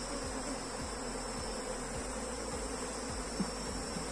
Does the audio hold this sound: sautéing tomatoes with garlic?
no